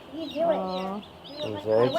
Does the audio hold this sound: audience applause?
no